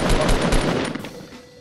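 Fortnite video game gunfire, a quick volley of several rapid shots in the first second, loud and close, then tapering off into quieter background noise.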